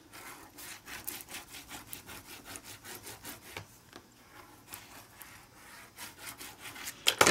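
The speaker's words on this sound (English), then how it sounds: "And burnish that down real good." A bone folder or burnishing tool rubbed firmly back and forth over a handmade book cover, giving a steady series of close, dry scraping strokes in a regular rhythm, with a sharper knock at the very end.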